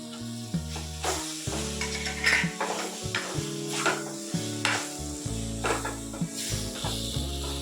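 Ground fennel, pepper and coconut paste sizzle steadily in a pan for a red cabbage kuzhambu, with repeated spoon scrapes and stirring knocks and soft music underneath.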